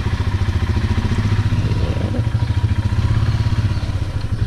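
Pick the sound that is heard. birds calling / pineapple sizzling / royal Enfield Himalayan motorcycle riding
royal Enfield Himalayan motorcycle riding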